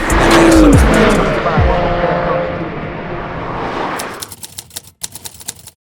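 A car driven for the first time after winter, a loud engine roar with a sharp falling tone early on, then quieter rhythmic clicking and tapping toward the end, with some talk in the background.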